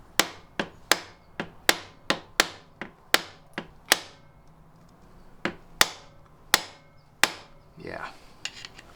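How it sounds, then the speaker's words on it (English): A hammer strikes a screwdriver against a tight nut on a Honda XR50 motorcycle engine, about fifteen sharp metallic knocks in an uneven rhythm, close and loud, with a brief rustle near the end. "I may be able to get it off with a screwdriver and a hammer"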